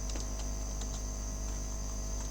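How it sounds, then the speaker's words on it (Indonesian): Fingers tap on a computer keyboard in a quiet room, soft scattered key clicks with uneven rhythm over a steady low electrical hum, with no voices. "Kemudian saya mengetik atau kita mengetik pada address barnya, kita ketik"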